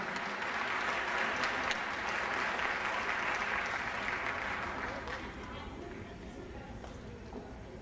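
An audience at an MLK Jr Day 2011 event gives a sustained round of applause for an elementary school teacher, a dense, steady clapping that tapers off slightly toward the end.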